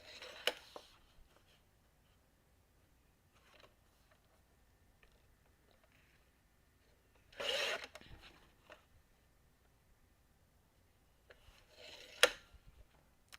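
Paper border trimmed with scissors, heard as a few short, faint snips and rustles spread across a mostly quiet stretch, with one louder cutting burst in the middle and another near the end.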